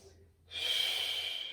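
A deep, drawn-out breath taken during a childbirth preparation exercise, heard close and soft as a long airy rush after a short quiet pause.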